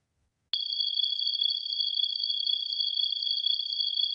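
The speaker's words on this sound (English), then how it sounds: "crickets." Cricket chirping sound effect that starts abruptly after a moment of silence, then carries on as a steady, unbroken high trill heard alone.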